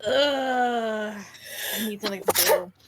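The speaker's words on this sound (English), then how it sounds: "Bless you. We're all sneezing." A sneeze bursts out amid talkative players at a tabletop Dungeons & Dragons session, landing as a sharp noisy burst near the end after a drawn-out voiced groan and some speech.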